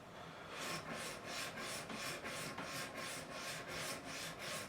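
A very coarse file shaping the nut of a 1973 Gibson Les Paul Custom, rasping in steady back-and-forth strokes, about a dozen even swishes close up with no talking.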